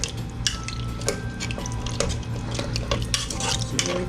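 A spoon stirs cow foot and butter beans in a pot, Jamaican style, with close, irregular scraping and clinking against the metal over a soft simmering bubble.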